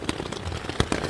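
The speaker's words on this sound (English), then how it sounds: "it's raining like crazy" Heavy downpour drumming on a tent before dawn on a mountain hiking trip, a dense crackling patter with sharper heavy drops striking the fabric close by, steady and fairly quiet.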